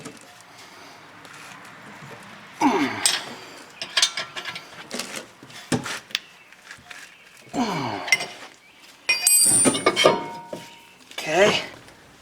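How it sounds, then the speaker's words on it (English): Wrench tightening a rear brake bolt on a 2011 Honda Accord, a series of close metallic ratcheting and clanking bursts separated by pauses, with quiet talking at times. "I'm going to use my non-gear wrench to tighten."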